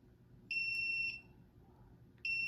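A diamond tester touching metal gives high electronic beeps: one long tone, a short pause, then a second tone starting. The beeps are clear and close over a faint hiss.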